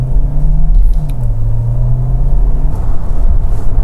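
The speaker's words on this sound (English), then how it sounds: "under the strong acceleration, I can make a smile on my face" A 2021 Kia Sorento Hybrid SUV pulling hard under strong acceleration, heard from inside as a loud, steady low engine drone and road rumble, with engine pitch shifting briefly and no talking.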